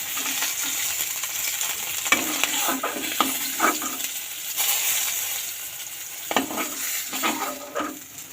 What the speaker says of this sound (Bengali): এরপরে বাকি মাছগুলো ভেজে নেব।